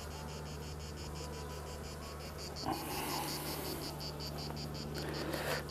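Honeybees buzz steadily on a hive frame during an August hive visit, a continuous close, fairly faint droning hum with a brief rustle of handling partway through.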